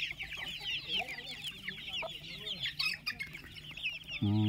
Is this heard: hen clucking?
yes